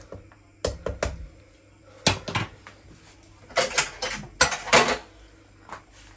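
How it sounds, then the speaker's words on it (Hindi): Spoon scraping and knocking against a pot while Kashmiri yakhni is gently stirred, several separate clinks and clatters spread across the stretch over a quiet kitchen background. "हल्का से इसको मिक्स कर लेती हूँ।"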